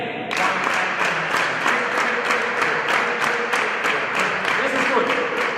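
A group of men clapping together in a steady, even dance rhythm during a ballroom lecture, loud and close, with about a dozen sharp collective claps over continuous crowd noise.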